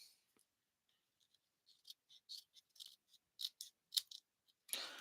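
Scissors snip through card for a stepper card, a series of quiet, crisp cuts in an irregular rhythm over near silence, ending in a louder rustle of handled paper.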